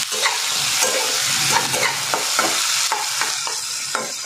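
Chopped onions frying in a pan with salt, stirred steadily: a continuous close sizzle broken by frequent scraping stirs.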